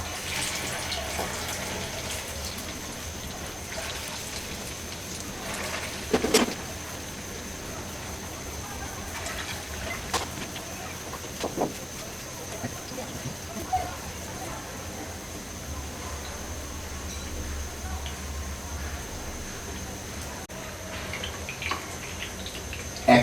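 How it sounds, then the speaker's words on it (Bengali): Thin papaya fritters (piyaju) frying in hot oil in a pan, a steady close hiss and bubbling sizzle throughout, with a few light clinks from a utensil. "এগুলো দিয়ে বিভিন্ন সাইজে ছেড়ে ভাজবো"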